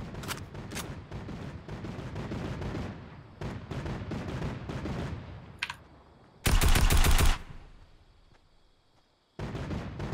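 Rapid automatic gunfire from enemy weapons in Fortnite, loud dense bursts with a sharp, very loud blast near the middle and brief silences between volleys.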